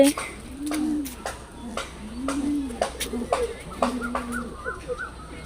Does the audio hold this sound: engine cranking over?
no